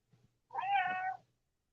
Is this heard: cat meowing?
yes